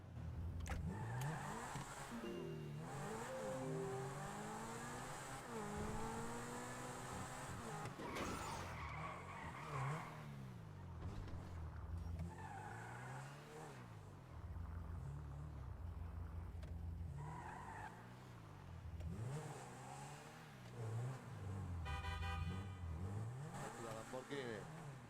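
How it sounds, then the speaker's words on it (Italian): A Lamborghini in a video game revs and drives, with repeated tire skids and squeals and swelling engine sweeps throughout, while people talk over the game sound. "La Lamborghini"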